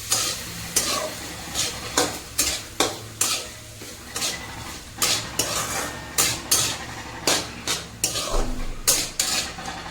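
Boiled egg bhurji with coriander being sautéed in a pan, with a steady sizzle and repeated sharp scrapes of a spatula stirring in an irregular rhythm, close and clear, with no talking.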